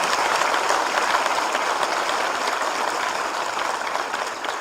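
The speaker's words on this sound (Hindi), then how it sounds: "एक बार उनके लिए भी ताली बजाएं," Dense, continuous applause from an audience at an electropathy seminar, a steady wash of many hands clapping at once, loud and even throughout.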